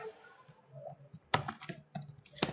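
Quiet, close keystrokes on a computer keyboard as a name is typed, arriving in short irregular clusters of clicks with small gaps between them and no talking.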